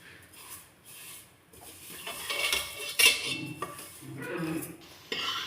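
Vermicelli being roasted and stirred in a pan, a spoon scraping and clinking against the metal in irregular strokes that grow busier, close by, with faint background noise and no clear talking.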